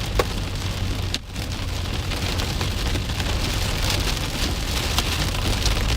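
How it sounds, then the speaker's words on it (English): Hail pounds on a storm chaser's car in New York Mills, Minnesota, a dense, steady drumming of stones with a few sharper cracks, loud and continuous throughout. "oh, it's got hail. Oh, we got hail in"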